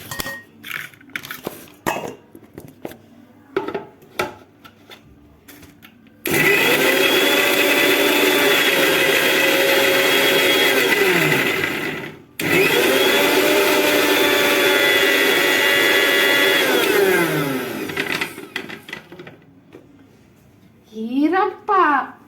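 A kitchen mixer grinder blends okra chutney (thuvaiyal) in two loud, steady bursts of whirring motor noise, each running several seconds with a brief stop between them; scattered voices and handling noises come before and after.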